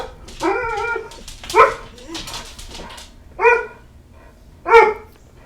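Dogs bark in short bursts, a few sharp yaps and whimpery barks spaced out over several seconds, fairly close.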